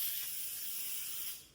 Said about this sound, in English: We're going to spray the crock pot because we want,